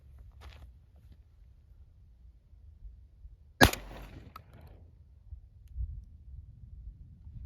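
A single gunshot rings out at a ranch, one sharp loud crack with a short decay, alone against quiet outdoor background.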